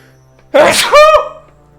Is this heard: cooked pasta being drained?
no